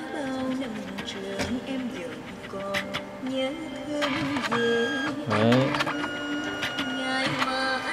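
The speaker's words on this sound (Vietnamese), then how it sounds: "Máy in rất nhanh các bạn ạ." A photo printer feeding and printing a photo sheet, with steady mechanical whirring and shifting motor tones plus intermittent clicks, fairly loud and continuous throughout.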